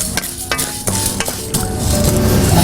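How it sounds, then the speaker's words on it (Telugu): Toor dal roasting dry in a pan is stirred steadily, a spoon scraping and rattling the lentils in a crisp, continuous rustle with light sizzling and irregular clinks, no voices. "కందిపప్పు కూడా వేగిపోయింది."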